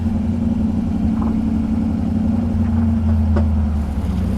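A classic Shelby GT350 pulling away with its engine rumbling low and steady, heard from inside the car, with a continuous throaty drone and slight shifts in pitch as it gets moving.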